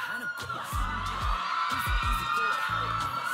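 A lively crowd at a youth summit in Iloilo cheers and shouts with scattered clapping, voices rising and falling in a noisy, energetic burst.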